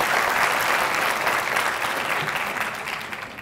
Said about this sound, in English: please give a round of applause to the Somali Canadian Cultural Society